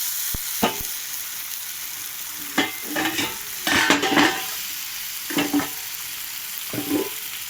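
Taro stems sizzle as they fry in a pan, a steady hiss broken by several scraping stirs of a spatula, close and clear with no talking.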